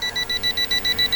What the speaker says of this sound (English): I get beeps because it's detecting something